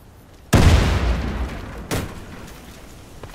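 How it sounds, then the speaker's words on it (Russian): A grenade detonates in the online shooter Warface: a loud, close blast with a rumbling tail, then a sharper, smaller bang about a second and a half later that fades out. "Кидаю гранату."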